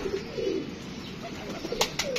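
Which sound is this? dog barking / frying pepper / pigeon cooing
pigeon cooing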